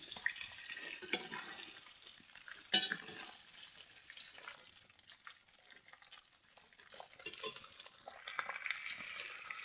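Meat is stir-fried in a pan during Dashain cooking, giving a faint, steady sizzle with scraping and stirring noises that swell and fade, with no one talking.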